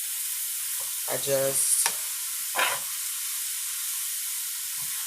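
Cabbage cooking in a covered pot with no added water, a continuous soft hiss of steam and sizzle running throughout, with a voice speaking briefly over it.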